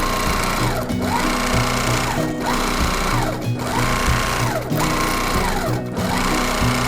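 A sewing machine quilts a fabric leaf, its needle hammering in a fast, steady close-up rhythm broken by brief pauses roughly every second as the quilt is repositioned.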